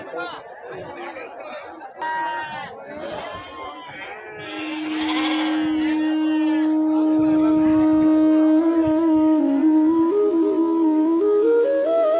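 Sheep and lambs bleat loudly and often at the Athani livestock market, near and overlapping, amid a crowd's chatter and people talking.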